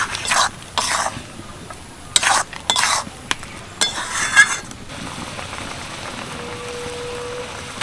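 Hog plum pickle with melted jaggery, salt and turmeric being stirred in a pan: several loud scraping bursts come first, then a quieter, steady sizzle with no voices.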